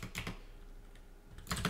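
Code typed on a computer keyboard, short bursts of quick key clicks at the start and end with a quieter gap between, close and soft.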